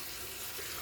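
Hot water rushing steadily from a tap in a home bathroom, a continuous faint hiss with no pauses and no voices, heard briefly.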